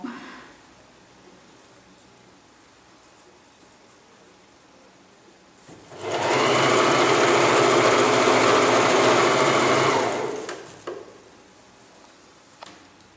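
A sewing machine runs steadily for about four seconds while a tracksuit is stitched, a loud continuous whir that starts and stops abruptly, with quiet room sound before and after.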